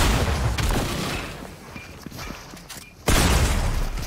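Shotgun gunfire in the Fortnite battle royale video game: a dense, noisy stretch of game audio with scattered sharp bursts, then a loud sudden blast near the end that stays strong, with no talk over it.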